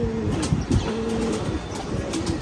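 A young racing pigeon at a pigeon-flying tournament coos in soft, repeated low rolling calls, close by, with some chirps and background noise around it.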